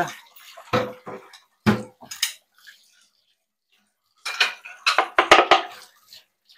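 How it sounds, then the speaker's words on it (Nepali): Dishes being washed after dinner, with intermittent bursts of running water, clattering pots and clinking cutlery separated by short pauses. "खाएपछि भाँडा मोल्नुपर्छ दुईजनै भाँडा मलाई हुँदैछ म माझ्दैछु"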